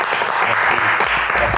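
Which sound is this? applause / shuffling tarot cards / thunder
applause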